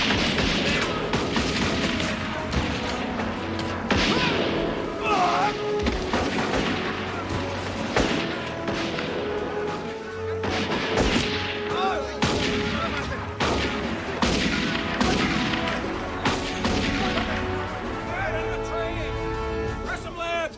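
Battle gunfire in an action movie, with a machine gun among the weapons, sounds as repeated sharp bursts and booms over dense music and shouted voices throughout.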